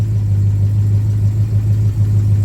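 A 1968 Plymouth Barracuda with a performance-built 318 V8 idles close by, a loud, steady low rumble with a strong hum and slightly uneven pulsing, and no one speaks.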